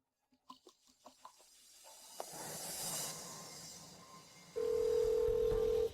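A telephone is dialed: a quick run of short keypad tones, then a faint hiss and a loud, steady dial tone near the end.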